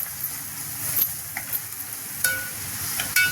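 Cumin powder and turmeric dry-roasting in a pan, a soft sizzle broken by a few brief spoon clicks, fairly quiet.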